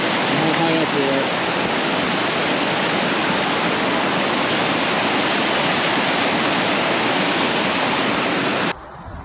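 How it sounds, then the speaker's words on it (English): A tall waterfall in the Columbia River Gorge, seen from a bridge above, roars in a steady, powerful rush of water, loud and continuous, with a faint voice near the start before the sound drops away. "See the falls going all the way down and how high up we are."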